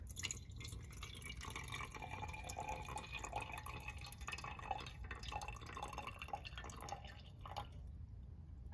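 Water trickles and drips into a cup or can sitting on a lab balance, a faint steady pour with small splashes and no talk.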